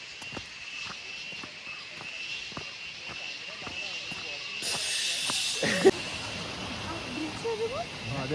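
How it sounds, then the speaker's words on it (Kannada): Rushing water of Hebbe Falls near Chikkamagaluru in monsoon flow roars as a steady broad wash, swelling louder for a stretch midway, with scattered faint clicks over it. "ರಭಸವಾದ ನೀರಿನ ಅಬ್ಬರ."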